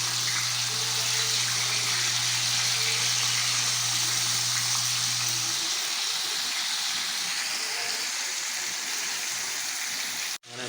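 Chicken pieces sizzle in a little oil in a small frying pan while cooking for biryani, giving a steady, close, even hiss with a low hum under it that drops away near the end.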